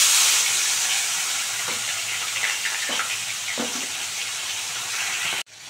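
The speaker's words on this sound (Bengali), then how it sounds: "মাছগুলো ভালো করে ভেজে নেবো একটা একটা করে" Fish fries in white oil in a pan, a steady high hiss and sizzle with a few faint pops and crackles, cutting off sharply near the end.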